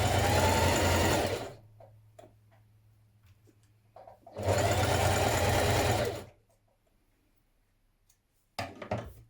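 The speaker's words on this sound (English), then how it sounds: "to stitch along here now to bring those two edges together, and we're going to do this with a 1 centimetre seam" A sewing machine stitches a 1 cm dress seam in two loud, steady runs of rapid needle hum, separated by quiet pauses with faint handling clicks, then starts again briefly at the end; no talking.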